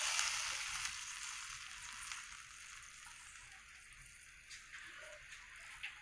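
Water hitting a hot kadai for Odia atta kakara sizzles in a loud hissing burst that slowly settles into a softer, steady simmer, heard close with no talk.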